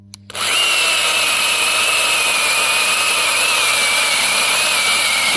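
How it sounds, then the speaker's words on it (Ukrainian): Bosch CSM 1815 18 V cordless mini chainsaw cutting small cherry branches: after a brief quiet start, a loud, steady high-pitched motor whine with chain rasp holds close and continuous to the end. "Давай, покажи, як ріже."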